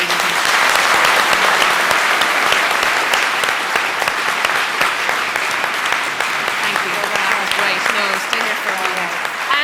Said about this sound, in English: Big round of applause for our ladies.